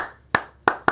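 A choir class claps back a call-and-response rhythm: three sharp, close handclaps, a lone one followed after a pause by two quick ones, in a quiet rehearsal room.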